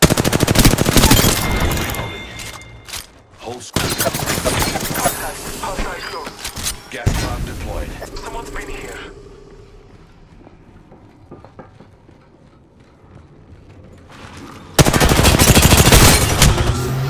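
Heavy automatic gunfire in a squad-based shooter video game, loud bursts and sustained machine-gun volleys separated by a quieter lull, then a final intense barrage, with game voice callouts mixed in.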